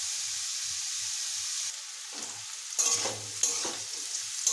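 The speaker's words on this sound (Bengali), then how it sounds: "আলুগুলোকে আমি এইভাবে ভেজে নিচ্ছি।" Potatoes frying in a pan with oil and whole spices, a steady sizzling hiss broken by a few scraping stirs of a spatula toward the end.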